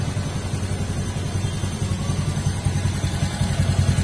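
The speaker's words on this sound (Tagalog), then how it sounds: "Dito naman tayo sa may bandang tambotso para marinig natin yung palyado nya." Honda Beat FI scooter exhaust with a misfiring engine, heard close at the tailpipe as a low, uneven chugging idle with irregular pulses and clatter, no voices.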